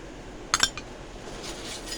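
A metal thali plate clinks against other kitchen utensils in a short burst of two or three close metallic knocks, followed by faint scraping and a few soft later clatters.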